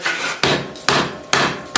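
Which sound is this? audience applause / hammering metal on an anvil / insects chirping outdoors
hammering metal on an anvil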